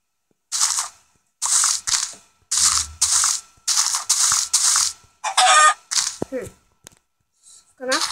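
A chicken in the mobile game Minecraft PE, with repeated short clucking and clicky bursts in an uneven rhythm, loud and close, with a few brief vocal sounds between them.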